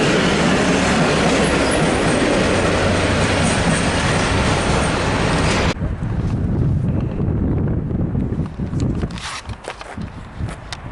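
V/Line Warrnambool passenger train passing close near South Geelong, with a loud continuous rumble and rail clatter that eases after the passing, plus wind buffeting the microphone.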